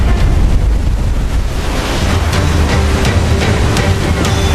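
Roaring wind and churning sea around a waterspout at sea in Assassin's Creed IV Black Flag, a loud continuous rushing wash with low rumble and no speech in between.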